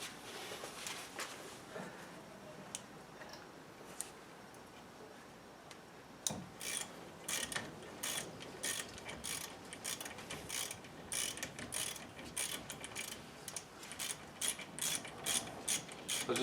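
Brake caliper sliders being tightened on a 2004 GMC Sierra 1500 pickup, a quick run of sharp ratchet clicks and metallic ticks, sparse at first and then coming in dense, close bursts.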